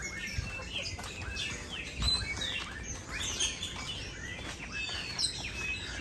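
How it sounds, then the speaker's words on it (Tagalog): Many birds chirp and tweet busily at Xcaret park, a dense, noisy chorus of calls at moderate distance with soft rustling underneath and no talk. "At ang iingay ng mga ibon."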